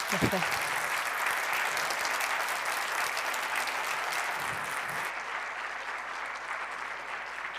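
An audience at a talk on new longevities gives a warm round of applause, dense and sustained clapping from a crowd in a hall, steady and loud for several seconds before fading slightly.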